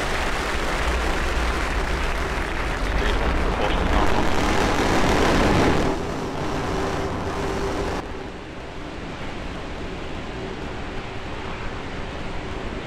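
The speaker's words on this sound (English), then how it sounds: "Liftoff of Falcon 9" A SpaceX Falcon 9 rocket lifting off from Cape Canaveral produces a sustained, distant, broadband roar that rumbles loudest early on, then drops to a softer, continuing thunder.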